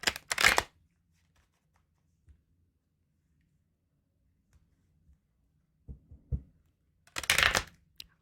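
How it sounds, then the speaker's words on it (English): Tarot cards are shuffled in two quick riffled bursts at the start and end, close and crisp, with faint soft handling taps in the quiet between. "A couple more shuffles here."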